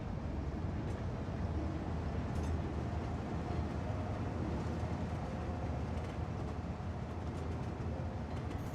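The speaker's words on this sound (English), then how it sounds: "We'll have only one train on this route." A train runs in the city-building game Cities Skylines 2 as a faint, continuous rolling rumble with no clear breaks and no voices.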